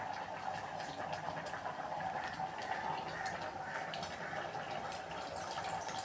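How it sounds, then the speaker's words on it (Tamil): Tamarind water poured into a pot of boiling kara kulambu made with knol khol, a steady liquid splash and bubbling running evenly throughout, close and moderately loud with no talking. "புளி கரைசலில் ஊற்றிக்கலாம்."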